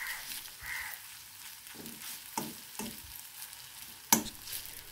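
Chopped ginger frying in coconut oil in a pan, with a steady low sizzle broken by several sharp stirring scrapes and clacks, one louder knock near the end, and no voices.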